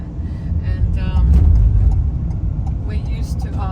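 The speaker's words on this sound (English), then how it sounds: "We're driving a manual car." A manual car being driven, with steady low engine and road rumble throughout, rising a little around the middle and staying close and continuous.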